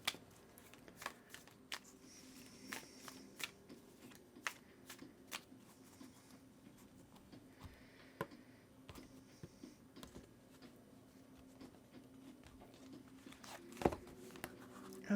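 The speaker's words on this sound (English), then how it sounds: "I'm going to go ahead and give the deck a good shuffle for you" A tarot deck is shuffled by hand in a quiet room, a long run of soft crisp card riffles and taps in irregular bursts, close and fairly faint.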